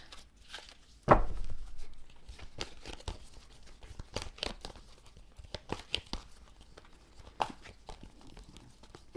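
Papery riffling and slapping of tarot cards being shuffled, irregular bursts of soft flicks and taps close by, with one louder crinkle early on.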